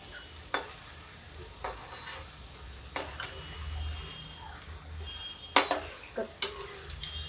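Onion and potato pakoras fry quietly in oil with a soft, low sizzle. Sharp clinks from a utensil against the pan come at irregular intervals.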